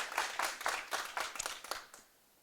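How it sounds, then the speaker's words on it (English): An audience at a school debate competition gives a short round of applause, a few distinct, uneven clusters of hand claps from a small group, close by, fading out near the end. "A resounding round of applause to both teams as they made their prepared"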